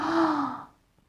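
A person takes an exaggerated deep breath in during a recorder lesson, a loud, airy, slightly voiced gasp that swells briefly, then fades into near silence.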